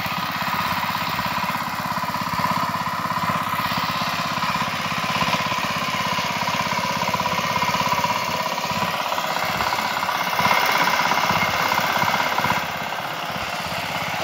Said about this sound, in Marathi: बघा मंडळी ट्रॅक्टरनी पण नांगरणी चालू आहे.